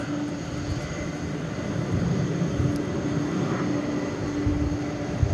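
A Qantas airliner in Spirit of Australia special livery at night at DFW Airport, its engines giving a steady, broad jet roar that stays fairly loud and even throughout, with no talking.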